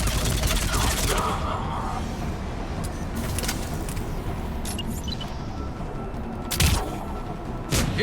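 Continuous gunfire and combat noise from the video game Mass Effect 3, with sharp shots at intervals over a dense, steady background of battle sound.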